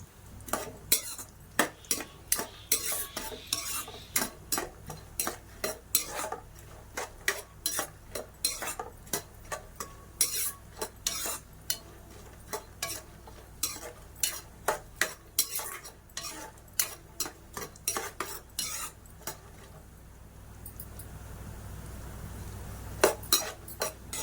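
Carrot halwa ingredients frying in a pan, dominated by repeated clinks and scrapes of a metal spoon stirring against the pan over a faint sizzle, close and rhythmic throughout.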